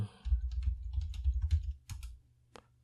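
A computer keyboard clatters with quick, close key taps as a topic title is entered in mind-mapping software, a brisk burst of typing that ends in a few spaced final clicks.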